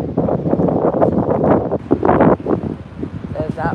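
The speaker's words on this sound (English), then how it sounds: "Windy." Wind buffets the microphone in a loud, steady rumble outdoors near an overnight fire in downtown Las Vegas, with indistinct voices mixed into the gusts.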